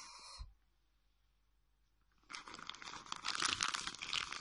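A plastic bag holding yarn crinkles and rustles loudly up close, with a brief rustle at the start, a quiet pause, then sustained crackling handling that grows busier toward the end.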